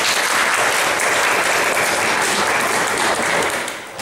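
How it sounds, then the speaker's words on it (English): An audience at an astronomy lecture on Milky Way models applauds steadily, a dense, even wash of clapping that holds for several seconds before tapering off at the end. "So let's give him a hand as well."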